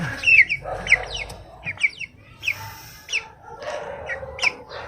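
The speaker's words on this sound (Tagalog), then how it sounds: "update na rin pala natin yung manok guys" Chickens clucking close by, a series of short squawky calls repeating about every half second over faint background noise.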